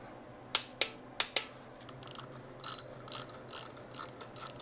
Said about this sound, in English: You want to torque this one at 20 Newton meters.